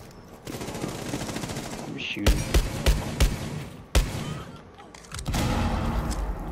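Desert Eagle pistol gunfire in Rainbow Six Siege: a string of sharp, loud single shots spaced roughly half a second apart over a busy backdrop of game noise, with a player briefly speaking.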